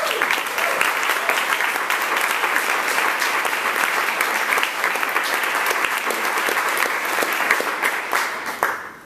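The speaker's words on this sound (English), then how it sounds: "her heart deserve a round of applause from all of us" An audience at a transgender history program in Chicago breaks into sustained applause, dense and loud clapping from a full room that holds steady for several seconds before tapering off at the end.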